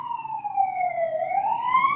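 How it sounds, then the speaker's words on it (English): A siren wails steadily outside, its pitch sliding down and back up over two seconds, fairly loud and clear with no talk over it. "I'm gonna wait for that siren to pass."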